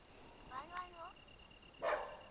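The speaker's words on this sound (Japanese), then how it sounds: "どっから吠えてんだよ、見えてないじゃないか。" A dog barks out of sight somewhere along a road near Osorezan and Mutsu on a cycling trip, giving a couple of faint, distant yips with some outdoor background.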